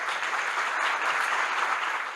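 An audience breaks into brief, steady applause for a professor, a dense even wash of clapping that holds at the same level for a couple of seconds before tapering slightly.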